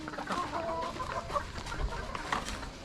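Several chickens clucking softly nearby, intermittent calls overlapping against a quiet farmyard background with no talking.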